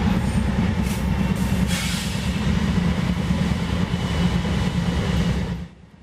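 A Seaboard Coast Line passenger train, the northbound Florida Special, rolls past near Dreher Park in South Florida in 1970, a loud steady rumble of wheels and cars that holds for several seconds and then drops away abruptly near the end.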